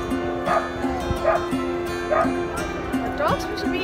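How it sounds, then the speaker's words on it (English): A dog barks repeatedly in short, regular yips and bow-wows, fairly close, over a steady low hum and some background voice. "Are dogs supposed to be in here?"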